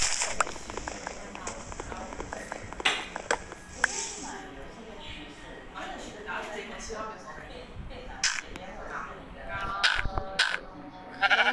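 Minecraft sheep bleat a few times in a one-block survival game, mixed with game effects and clicks while a player talks throughout.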